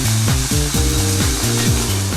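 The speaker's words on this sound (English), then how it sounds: "Place the pork sirloin into the Duratherm without the addition of oil or fat" Pork sirloin sears in a Durotherm pan without oil or fat, producing a loud, continuous sizzle with a steady hiss and faint wavering tones underneath.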